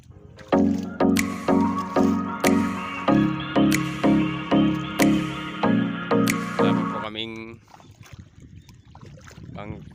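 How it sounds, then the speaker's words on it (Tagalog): A small wooden fishing boat is rowed with oars out toward open sea, giving a steady rhythmic series of about a dozen knocking strokes up close before they stop and leave only wind noise. "Nagsasagwa na po kami."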